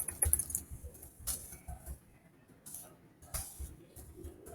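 Someone types on a computer keyboard, entering a meeting name: scattered soft key clicks in short irregular bursts, close and fairly quiet, with no talk.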